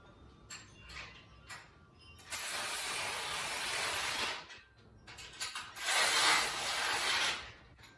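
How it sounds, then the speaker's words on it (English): Combo wrench tightening a 17 mm hex bolt during assembly of a RitFit M1 Smith machine, heard as quick ratcheting clicks followed by two long, loud bursts of grinding, scraping mechanical noise close up. "Here we're going to need the combo wrench for the hex bolt, 17 mil."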